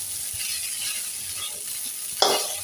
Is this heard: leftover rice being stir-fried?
yes